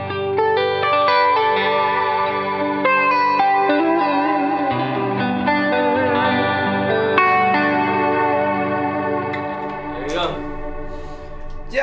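An instrument played through a reverb effect, sustained chords ringing with a washy, chorus-like shimmer and echoing tails for several seconds, loud and continuous.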